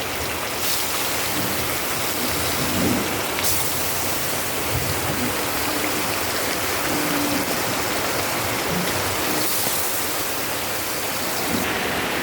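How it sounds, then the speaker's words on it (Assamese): Rain falls outside as a steady, dense wash of hiss that stays even from start to finish, with brief brighter bursts and faint kitchen clatter mixed in. "এয়া চাওক, বাহিৰত বৰষুণ পৰি আছে"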